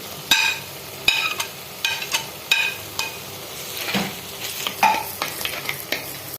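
Green chillies, crushed ginger and garlic sautéing in a pan for Kerala-style pappadam curry, with sharp spoon-against-pan stirring knocks at irregular intervals over a soft sizzle.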